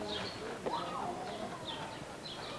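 Birds at a zoo call faintly, with a few short cooing and chirping notes scattered over steady outdoor background noise.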